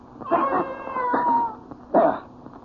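A cat meows and caterwauls in a radio drama, two long wavering yowls followed by a shorter sharp cry, close and fairly loud with nothing else underneath.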